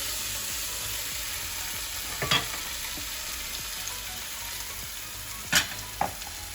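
Chicken biryani with homemade masala sizzles and fries in a pan, a steady crackling hiss with a few louder clinks of stirring.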